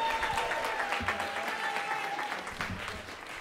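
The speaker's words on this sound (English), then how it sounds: "Can we give Blaise Mercedes a round of applause" A crowd applauds a guitar performer, a dense, even wash of clapping held at moderate distance throughout, with faint scattered voices underneath.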